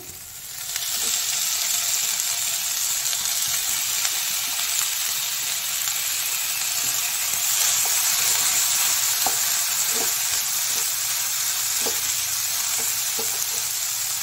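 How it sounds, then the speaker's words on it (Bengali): Paneer pieces frying in oil with browned salt and spices for paneer butter masala, a loud steady sizzle broken by occasional stirring clicks, with no voices. "নুন মশলা ভাজা ভাজা হয়ে এসেছে, এবার ওই পনিরগুলো দিচ্ছি।"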